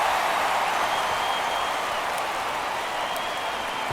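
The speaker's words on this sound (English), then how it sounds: "That fires up the home crowd." Home crowd at a Chicago Cubs baseball game in MLB The Show 23 roars and applauds after a home run, a dense steady wash of cheering and clapping throughout.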